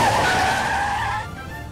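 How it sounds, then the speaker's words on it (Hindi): A car sweeps in fast and skids, a loud tonal tire squeal sliding downward over about a second before cutting off into a softer engine rumble. "बाबूजी की गाड़ी। हमने के पीछे गाड़ी आवतिया।"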